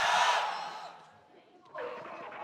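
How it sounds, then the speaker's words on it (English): A crowd at a CrossFire Stars 2019 esports grand finals arena bursts into a loud cheer that quickly fades, then a second swell of crowd noise rises. "Crowd here finally having something to smile about, cheer about"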